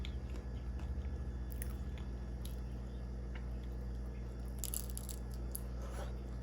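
Someone chews cookies close to the mic, soft wet crunching and squishing in quiet repeated bites over a low steady background hum, with no talk.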